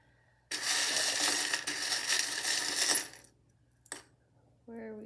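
Small tarot charms tumble onto a reading table in one long rattling cascade of clinking metal, followed by a brief second clatter and a few light taps, close and alone without talk.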